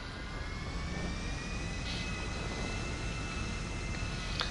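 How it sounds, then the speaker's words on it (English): Fixed-wing aircraft in a PS4 video game touching down at Mackenzie Airfield, a steady broadband engine roar with a faint high whine held evenly throughout, no talking. "And that is how you land a plane on Mackenzie Airfield."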